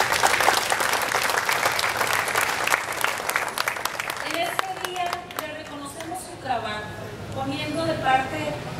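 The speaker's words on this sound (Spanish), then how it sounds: "Un aplauso para todos." Crowd applause for a city's firefighters at a mayoral tribute in Mazatlán, a dense burst of clapping that thins out as a voice begins speaking over the last scattered claps.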